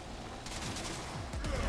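Dense gunfire in the video game Warframe, rapid overlapping shots forming a continuous rattling barrage, moderately loud, with a slightly heavier burst toward the end.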